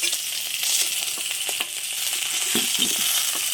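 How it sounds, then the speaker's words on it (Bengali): Tengra fish frying in oil under a lid, a steady close sizzle with scattered sharp pops and spatters throughout. "ওই জন্য ঢাকা দিয়ে ভেজে নিচ্ছি"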